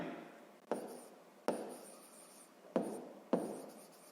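Hand writing of a sixth-grade maths exercise on paper, four separate short strokes of pen or pencil scratching, each starting with a sharp tap and fading, close and quiet with pauses between.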